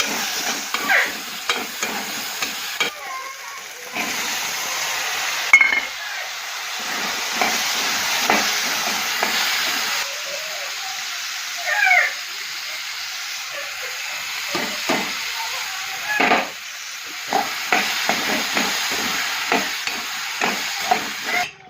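Sliced onions sizzling in hot oil in a pan for veg pulao, a steady hiss broken by repeated stirring scrapes and clicks, close and continuous with no talking.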